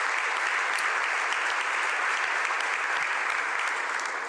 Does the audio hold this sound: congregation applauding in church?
yes